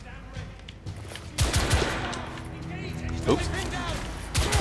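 Gunfire in the PS4 game The Order: 1886, several sharp bursts of rapid shots and impacts scattered through, with someone speaking briefly over the action.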